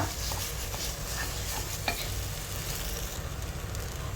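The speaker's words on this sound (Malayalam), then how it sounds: "എന്നിട്ട് നന്നായി മിക്സ് ചെയ്ത് കൊടുക്കാം." A banana halwa mixture with sugar sizzles gently in a pan while a spoon stirs it, giving steady frying hiss and occasional scraping strokes close by, with no talking.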